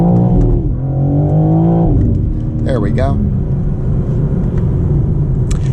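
A 2023 BMW M4 Competition xDrive Convertible accelerating, its engine note climbing in a rising sweep before a gear change, then settling into a lower steady drone with road rumble; a voice speaks briefly over it.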